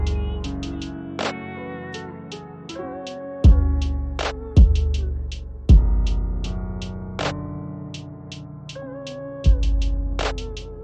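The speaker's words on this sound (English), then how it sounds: "you've effectively got a halftime audio clip" A rendered beat slowed to half-time plays alone: deep, booming kicks land every second or so under sparse, crisp percussion hits and sustained melodic tones, with a slow, heavy, stretched groove.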